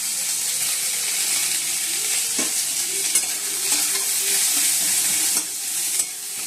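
Onions frying in hot oil in a pan, a loud steady sizzle close by, broken by several knocks and scrapes from a stirring utensil.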